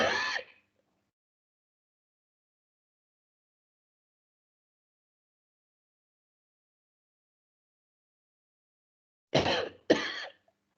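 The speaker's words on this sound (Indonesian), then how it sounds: "Saya agak batuk-batuk" A person with a cough from air conditioning coughs once sharply, then falls silent for a long stretch before two more close, loud coughs.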